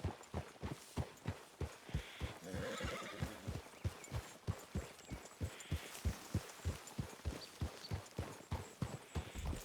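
Horses in the Red Dead Redemption 2 video game clip-clop at a steady walking rhythm, with faint whinnying mixed into the hoofbeats, fairly quiet throughout.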